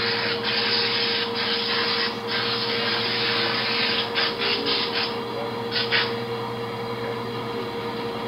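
Rollers on an instant noodle pilot line flatten wheat dough in a steady whirring mechanical drone with a constant hum, punctuated by brief soft bursts of hissing.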